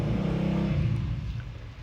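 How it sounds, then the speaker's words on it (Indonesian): A motorbike engine runs outside, a steady, fairly loud low rumble with revving swells that eases slightly toward the end, heard alone without talk. "stop dengan suara motor di luar"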